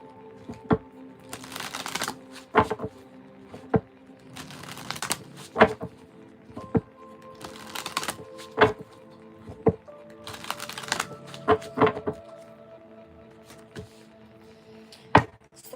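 A deck of fortune cards is shuffled up close indoors, with repeated riffling bursts and sharp taps as the cards are squared, spaced every second or two, with a faint voice underneath.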